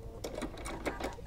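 A sewing machine backstitches along the top pocket edge of a cork wallet, its needle chattering in a quick run of close, evenly spaced stitches, near and moderately loud.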